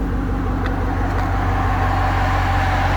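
A 2011 Shelby GT500 convertible, a 750-plus horsepower car, holds a steady, loud, low engine rumble throughout, idling or running evenly with no talk over it.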